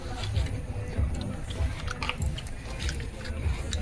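People chewing and biting into barbecue at an outdoor gathering on Moushuni Island, continuous wet munching and crunching up close with a busy background of voices.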